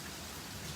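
Steady rain falls in Vrindavan during lockdown, a dense, even hiss of drops on surfaces with no voices, holding constant throughout the short stretch.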